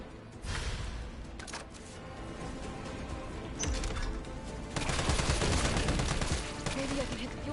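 Pistol gunfire aimed at a tank in Resident Evil 3, a series of sharp shots and rapid bursts over game ambience, growing louder and denser toward the end, with a voice talking faintly under them.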